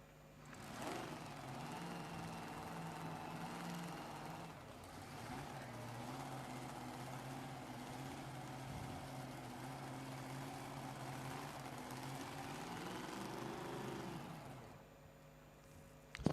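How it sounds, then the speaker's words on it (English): A supercharged race car engine rumbles at Willowbank Raceway drag strip during qualifying, heard as a distant, steady engine drone with rising and falling tones, fairly faint throughout. "I could hear something supercharged."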